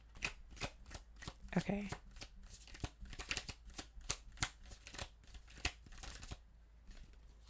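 Tarot cards are shuffled by hand in quick, crisp riffling bursts with short pauses between them, close and fairly quiet, with a brief spoken word near the start.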